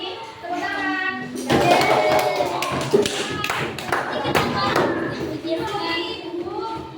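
Fourth-grade schoolchildren in a classroom clapping their hands together on cue, a burst of loosely synchronized claps and taps mixed with children's and a teacher's voices.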